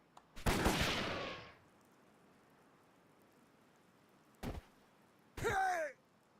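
A few sharp gunshots ring out in a Live A Live standoff between two gunmen, one long burst followed after a pause by two short cracks, with a whining ricochet-like tail on the last.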